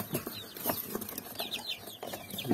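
Young chicks feed from a homemade plastic-bottle feeder, with faint chirps, soft clucks and light pecking taps throughout.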